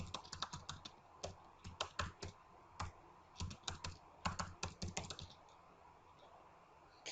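Rapid, uneven bursts of keystrokes on a computer keyboard as a website link is typed, close and fairly quiet, with short pauses between clusters and no talking.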